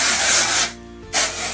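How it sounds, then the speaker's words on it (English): Hairspray hisses from a can onto the hair roots in two close, loud bursts separated by a short pause. "I'm just going to spray that over all the roots of my hair."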